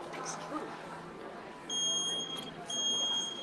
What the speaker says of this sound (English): Oh, Jeremiah's setting off alarms